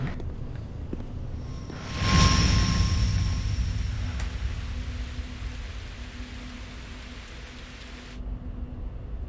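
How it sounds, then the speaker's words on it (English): Steady video game rain hiss swells in after a couple of seconds and continues evenly, then cuts off abruptly near the end, with a faint low hum underneath. "Sounds like rain."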